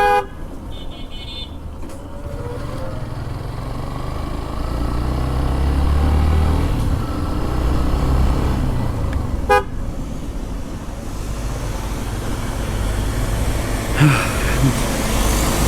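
Jammed road traffic in the Ashulia, Savar area of Bangladesh: a steady, dense rumble of engines and passing vehicles, with a few short car horn toots near the start and around the middle.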